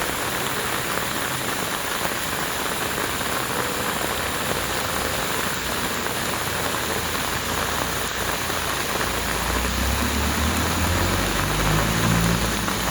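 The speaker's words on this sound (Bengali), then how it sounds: "বৃষ্টির শব্দ শুনেন" Steady rain pours onto a lily pond in Mymensingh, a thick constant hiss of drops on water, with a vehicle engine rumbling past near the end.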